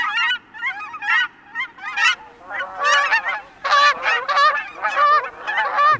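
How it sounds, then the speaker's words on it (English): Canada geese honking repeatedly at a coastal bay, a run of loud, close, overlapping calls in quick bursts over faint background noise, with no talk. "The Canada goose has a much more classic honk."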